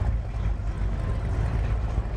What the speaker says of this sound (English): You're gonna hear a lot of noise in the backdrop because we have the boats